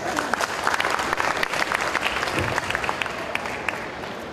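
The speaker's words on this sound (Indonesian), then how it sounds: "Tepuk tangan sekali." Lively applause from an audience at a marketing-week business lecture in Jakarta, brisk crowd clapping for about four seconds that gradually eases.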